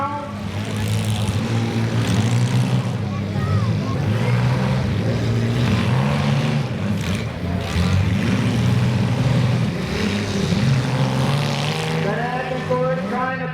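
Engines roar steadily at a limited weld compact demolition derby in Warren, Illinois, with a continuous loud drone rising and falling as cars rev and push, under an announcer's commentary.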